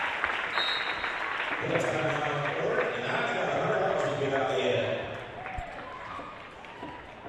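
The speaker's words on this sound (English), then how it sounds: "Kyra Older gets to go out in favor of Abby Holman, and she gets a round of applause." Crowd applause in a high school gym during a girls' varsity basketball game, steady and moderately loud, mixed with arena murmur and a commentator talking over it.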